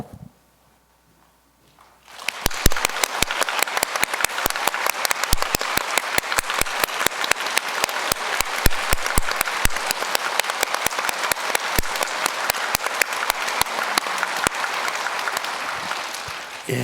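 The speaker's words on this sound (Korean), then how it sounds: "우리 장자박수 한번 합니다." A church congregation breaks into sustained applause after a sermon, a dense roomful of clapping that starts abruptly after a short quiet gap and holds steady and loud throughout.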